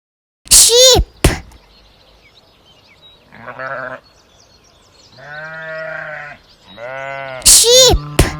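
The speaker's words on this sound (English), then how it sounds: "sheep," Sheep bleat in three drawn-out, wavering calls of rising length, framed by brief sharp bursts at the beginning and end.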